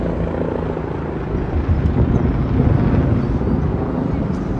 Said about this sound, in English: Oh, hello, Mr. Helicopter.